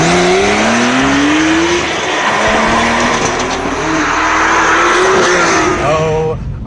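A second-generation Porsche 991 911 Carrera with a manual gearbox drives hard on a track, its engine loud and close as it climbs through the revs and shifts, with tire and wind noise under someone speaking.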